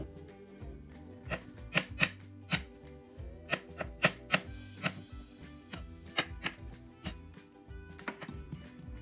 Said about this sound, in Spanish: así vamos a picar nuestras tres calabacitas